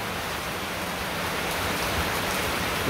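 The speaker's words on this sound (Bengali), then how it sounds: "স্বাভাবিক কিছু কিছু বৃষ্টি নামছে মোটামুটি।" Dense, steady rain pouring down close by, a continuous broadband hiss of drops hitting surfaces, growing slightly louder toward the end.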